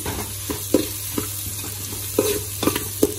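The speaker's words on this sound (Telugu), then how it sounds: "క్యాబేజ్ కొంచెం గోల్డెన్ బ్రౌన్ అయ్యే వరకు ఫ్రై చేసుకోవాలి." Cabbage frying in a pan while being stirred for street-style noodles, a steady sizzle broken by repeated scraping strokes roughly every half second, close and fairly loud with no voices.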